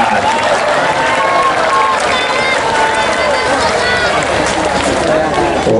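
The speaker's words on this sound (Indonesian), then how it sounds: "Sekali lagi tepuk tangan untuk Ustaz dan Latif" Crowd applause and cheering for Ustadz Das'ad Latif at a packed religious gathering in Pekanbaru, a dense, steady roar of clapping that stays loud and continuous throughout.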